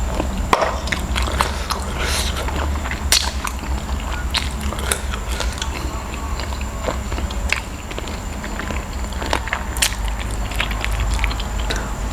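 Close, crunchy chewing of spicy Lao-style chicken feet salad with crisp vegetables, irregular crackling bites repeating steadily without any talk.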